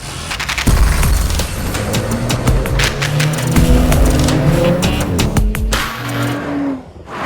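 An Audi RS4 B9 Competition V6 with a reworked exhaust revs loudly and steadily, engine note rising and falling with sharp transient pops, sustained throughout with no talking.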